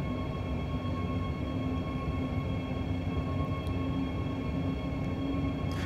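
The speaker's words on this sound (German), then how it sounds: "einen anderen Güterzug" A freight train rolls out in Train Sim World 4, a steady, continuous rumble with a faint tonal hum, even and unbroken throughout, with no voices.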